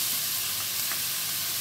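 Garlic stir-frying in a pan for a pork belly and bamboo shoot dish with basil, giving a steady, fairly quiet sizzle and hiss that continues throughout without talk.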